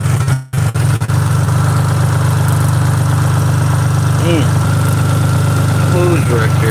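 Austin Metro engine idling roughly with a steady, uneven low rumble throughout; it drops out briefly near the start, and faint speech appears later under the engine.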